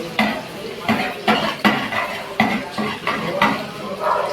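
Chopped onions frying with cumin in a pan, stirred in a repeated rhythm of scraping utensil strokes against the pan over a soft sizzle, close and fairly loud.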